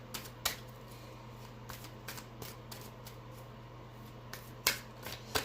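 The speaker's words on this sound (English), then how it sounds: "let's draw another card for your next big day" Tarot cards are shuffled and drawn in a quiet room, giving soft riffling with sharp flicks and snaps scattered irregularly over a low steady hum, close to the microphone.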